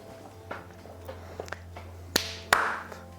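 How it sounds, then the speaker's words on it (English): Two sharp, loud hand claps close by, about a third of a second apart, following a few fainter taps over a quiet room hum. "2 claps."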